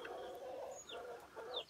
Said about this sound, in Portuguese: Olha o galo ali, quantas galinhas.